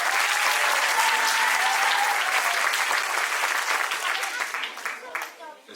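An audience applauds a group of school children from École Félix Piat at a song-making workshop, with dense, steady clapping that holds strong and then thins and fades toward the end.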